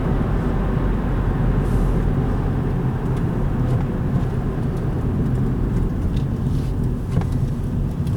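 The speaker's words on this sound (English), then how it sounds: "A lot of fucking traffic here." Heavy road traffic at night, heard from a car on the ride home: a constant broadband rumble of passing vehicles and road noise, steady and moderately loud, with faint brief ticks.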